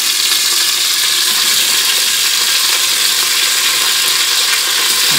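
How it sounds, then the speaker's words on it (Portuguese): Linguiça sausages frying in a pot for a feijoada give a steady, loud, even sizzle with a dense, continuous hiss and no talk over it. "onde já tem umas linguicinhas sendo fritas. A gente vai fritar tudo aqui."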